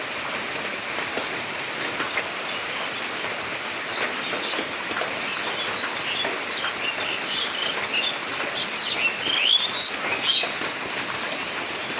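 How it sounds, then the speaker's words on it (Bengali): Small birds gathered to feed in steady rain chirp in faint, scattered high calls over a constant hiss of falling raindrops in a green garden setting. "পাখি, এরা খাদ্যের উদ্দেশ্যে এখানে সমবেত হয়েছে,"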